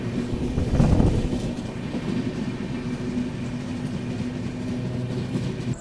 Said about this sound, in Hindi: कौन सी ट्रेन है, वो रात के अंधेरे में निकल रही है